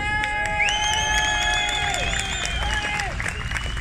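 Applause and cheering from a street protest crowd against paid motorcycle parking, a steady dense wash of clapping with scattered shouts and whistles, moderately distant and continuous.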